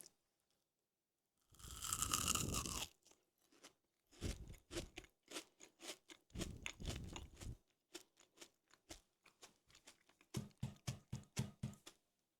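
Homemade Dubai chocolate being bitten and chewed: one long loud crunch, then a run of sharp crackling bites and chews, close to the ear, alone without talk.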